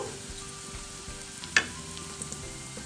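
Softened onions frying in oil in a pan, a quiet, steady low sizzle with one sharp tick partway through and a few faint clicks.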